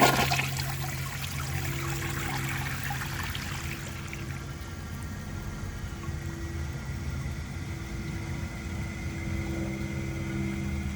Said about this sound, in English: I'm going to give it a second flush and see if it can pass that the rest of the way